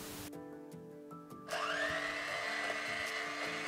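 A high-pitched electric mixer starts up and whirs steadily as it beats whipping cream toward stiff peaks, close and fairly quiet, with a brief pitch change before settling into a continuous drone.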